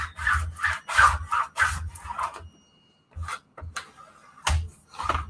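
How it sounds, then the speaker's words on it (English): A Cricut burnishing tool rubbed firmly over vinyl on a flat surface, close and dry, in repeated short scraping strokes separated by brief pauses. "let's just do the burnishing here"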